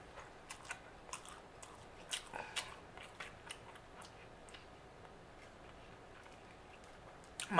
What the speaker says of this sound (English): I was just chewing.